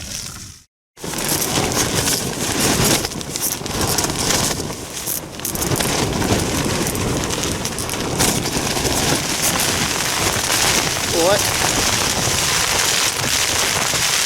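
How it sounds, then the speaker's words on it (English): Heavy rain and gusting wind batter a tent at night during a wild camp, a loud, dense, continuous roar and patter; someone speaks a single brief word near the start. "The wind was meant to die down when the rain started, but it's all got worse. Proper raining"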